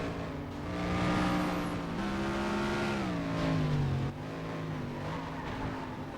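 Racing cars in FlatOut 2 on PS2, Street Class, roar continuously at high revs, with engine pitch rising and falling through gear shifts and a brief drop near the four-second mark. The sound is loud, close and steady, with no voices.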